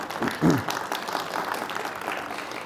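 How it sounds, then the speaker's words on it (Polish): Audience applause in a lecture hall at an archbishop's talk on European identity and Christianity, a moderately faint patter of clapping from a crowd that swells briefly, then settles into steady, thinning claps. "Nie klaszcie, nie klaszcie, bo oklaskujecie księdza"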